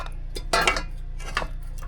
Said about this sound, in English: we are going to take all of this and put it in our Dutch oven for our soup now